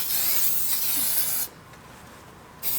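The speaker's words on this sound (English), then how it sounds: "I got to spray the ways down." A spray can hisses loudly and steadily onto the steel ways of a wood lathe to keep them from rusting, stops for about a second, then starts again.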